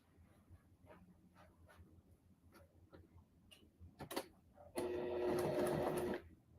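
Small sewing machine stitching fabric for a cute mini craft piece, a steady loud mechanical whir for about a second and a half, preceded by faint scattered ticks and taps.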